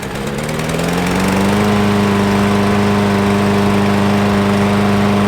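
A Murray lawn mower engine fires up close by on one pull and settles into a loud, steady running drone.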